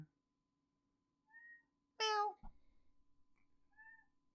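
A cat meows twice, short and faint, then a louder, longer meow follows a thump, with brief soft mews trailing at the end in a quiet room.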